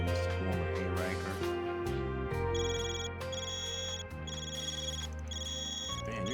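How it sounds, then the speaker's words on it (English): A cipher phone rings in Trails Beyond the Horizon, a repeating electronic ringtone in steady bursts over layered game music, no talk. "Man, your cipher's ringing."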